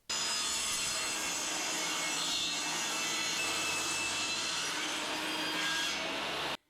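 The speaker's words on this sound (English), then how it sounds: "So let's rip it through the table saw." A table saw rips lengthwise through a piece of wood for a camper build, one continuous loud, harsh cutting whine close up that starts abruptly and cuts off at the end.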